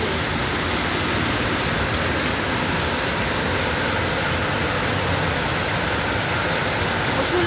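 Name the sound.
torrential rain pouring on a flooded field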